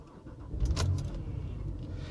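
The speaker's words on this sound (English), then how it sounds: "Let me start the car up." A 2010 Porsche 911 Carrera 3.6 engine cranks and fires up, settling into a low, steady rumble, with a light jingle of keys near the start.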